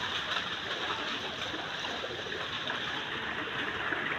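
Floodwater runs through a flooded village, Purok Balinghoy, after Typhoon Goring, a steady broad rushing and trickling wash that holds level throughout with no voices over it.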